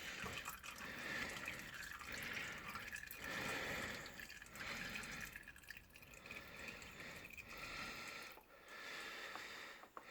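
Motor oil drains from a Renault Twingo into a catch pan as a continuous, faint, steady liquid stream with soft splashing and dripping. No one speaks.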